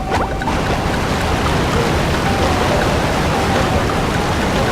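Loud running water in SpongeBob SquarePants Battle for Bikini Bottom, a constant broadband rushing hiss like a waterfall filling the whole clip at high volume, alone without talk.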